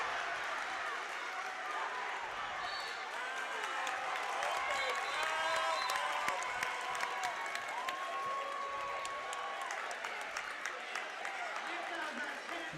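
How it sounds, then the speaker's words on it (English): Basketball crowd at a high school game cheering and applauding steadily as play tightens, a dense wash of claps and shouts with a voice talking over it throughout. "Crowd's getting real excited."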